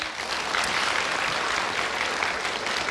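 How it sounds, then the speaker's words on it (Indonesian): Sustained applause from a studio audience at an Indonesian 2024 election talk show, many hands clapping evenly and continuously with no voices over it. "kita berikan tepuk tangan untuk Bendahara Umum Partai Nasdem Ahmad Saroni."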